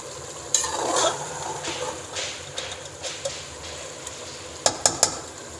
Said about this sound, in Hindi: इसमें तकरीबन 2 मिनट चम्मच हिलाना है